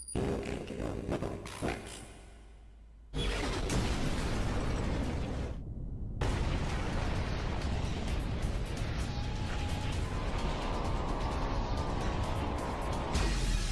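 An explosion booms in an animated Skibidi series. Loud, broad, roaring blasts erupt after a short quieter stretch, then sustain as a dense rumbling roar to the end.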